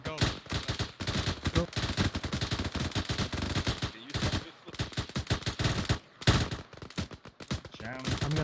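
Rapid gunfire during movement and cover training, dense bursts of automatic shots cracking almost continuously with brief pauses, loud and close, with voices talking over the firing.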